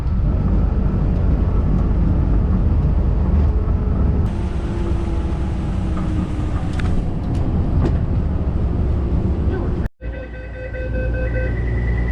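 A train rumbles loudly and steadily, with squeals and clatter rising partway through before the noise briefly cuts out and resumes.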